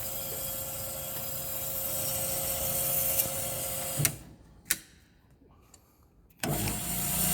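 A BS 280G band saw idles at low speed with a steady, quiet mechanical hum. Midway the hum drops out, a couple of sharp clicks sound, then it resumes. No one talks.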